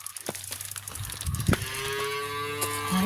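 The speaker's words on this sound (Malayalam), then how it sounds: "അത് പശു" A cow moos in a low, drawn-out call that swells partway through and is broken by a sharp clatter. Faint background rustle runs underneath.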